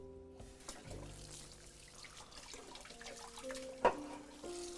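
Tap water running into a sink while a mixing bowl is rinsed, a faint steady trickle and splash with one brief clatter partway through.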